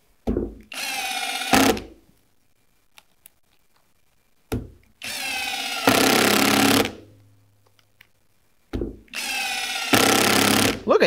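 A SKIL 12V PWRCore cordless drill driving 3-inch screws on its low speed setting, with three separate bursts of steady whirring and grinding separated by quiet pauses and no voices.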